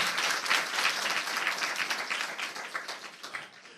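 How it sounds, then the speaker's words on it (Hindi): A church congregation claps steadily for a few seconds during a sermon, a dense patter of many hands that gradually thins and fades toward the end. "अब प्रभु के लिए तालियां बजाएं"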